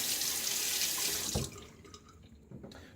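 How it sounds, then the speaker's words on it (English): A Gillette Sheraton safety razor rinsed under a running bathroom tap: a loud, steady rush of water that cuts off partway through, leaving quiet drips and faint handling clicks nearby. "All right, rinse this off"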